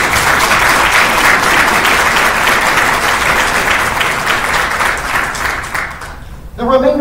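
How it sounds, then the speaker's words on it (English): Sustained applause from an audience at a military graduation ceremony for soldiers, a dense steady wash of clapping that fades near the end before a voice begins speaking. "Ladies and gentlemen, please join me in another round of applause for our distinguished graduates."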